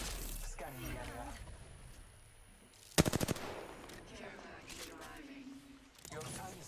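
Gunfire in the video game Apex Legends: a sharp burst of rapid automatic shots cracks out near the middle, surrounded by game effects and a person talking before and after.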